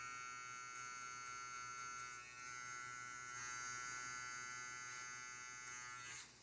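Electric hair clippers buzzing steadily up close while the blade cuts hair during a skin fade, with small ticking bites as the blade meets hair before the motor cuts off at the end.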